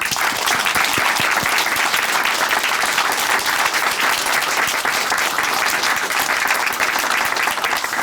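A large church congregation claps loudly and continuously, a dense, steady wash of applause lasting several seconds.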